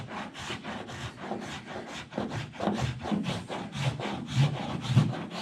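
Body filler on a 1947 Ford is worked down with a hand file, producing rhythmic, close rasping strokes, about a dozen back-and-forth scrapes at a steady pace, with no one talking.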